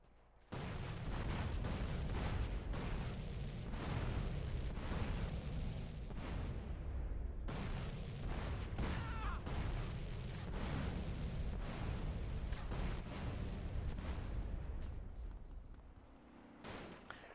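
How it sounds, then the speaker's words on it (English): Rockets exploding in Grand Theft Auto: San Andreas, a long dense run of heavy booms and blasts following one another almost without pause, loud and close, fading near the end. "now we're gonna throw some rocket here to trigger the cutscene earlier"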